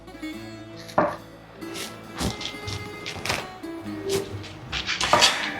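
A big kitchen knife slices through green onions on a cutting board, giving several separate sharp chops and thunks spread out at an uneven pace, fairly close and moderately loud with no talking.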